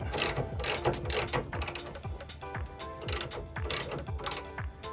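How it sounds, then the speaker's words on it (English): A ratchet wrench clicks in quick repeated runs while tightening the top nut on a rear lift shackle of a 2015-2022 Ford F-150 pickup, the pawl ratcheting in bursts with brief pauses, close and clear. "then we'll tighten up the top nut"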